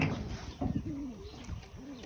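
Pet pigeons coo softly nearby in a few rounded, repeated calls, faint and close with light background hiss.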